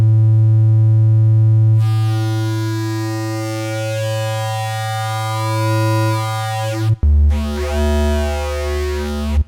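Clean triangle waveform from the oscillator of an Arturia MiniBrute 2 synthesizer: a steady, pure low tone held alone, with a brighter layer entering after a couple of seconds and a short gap before the pitch drops lower.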